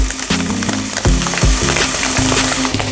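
Chicken and onion fry loudly in a pan with pepper and hot and sweet paprika added, a dense close sizzle punctuated by repeated clattering stirs and knocks of a utensil.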